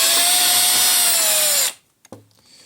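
Warrior power drill fitted with an Allen head bit, running loud and close in one sustained high whine that winds down and stops, followed by a couple of short clicks and a brief low thud.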